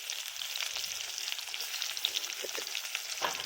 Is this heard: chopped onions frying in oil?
yes